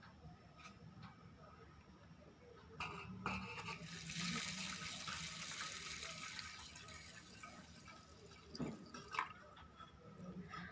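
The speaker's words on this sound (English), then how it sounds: "Now I am going to add some of the water." Water pours steadily onto rice and fenugreek seeds in a bowl for soaking, a broad gushing wash that swells mid-clip and runs for several seconds, with faint voices in the background.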